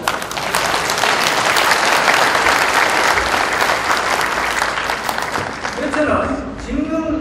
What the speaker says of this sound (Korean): 여기 박병수 부의장님께 다시 한번 부탁의 박수를 부탁드립니다